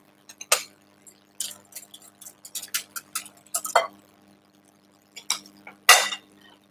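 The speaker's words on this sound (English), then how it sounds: "So we'll just add the milk and give it a whisk." Milk being whisked into apple square batter in a bowl, with sparse light clinks and taps of the whisk against the bowl, quiet and irregular.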